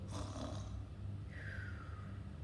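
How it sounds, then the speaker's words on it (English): Quiet, close snoring over a low steady drone, ending in a thin whistling tone that slides gently downward. "Mrs. Tortoise began to snore too."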